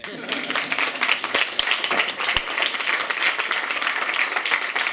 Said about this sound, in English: I do need a round of applause